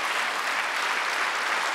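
A church congregation claps hands together, a brief, dense burst of many palms striking at once that holds steady and fairly loud.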